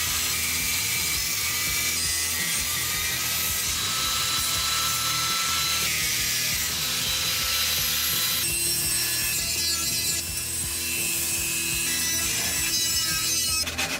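The steel bash plate of a Triumph Scrambler sump guard is cut with a power tool, producing a continuous, loud, close rasping and grinding that runs without pause and shifts pitch partway through.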